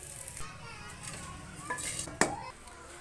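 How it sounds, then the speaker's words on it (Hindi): Fried rice with eggs being served onto plates, with soft scraping of a spoon, clinks of utensils and one sharp ringing knock against a dish near the end, fairly quiet with faint background voices. "चले मैं इनको अब डिश आउट करता हूँ।"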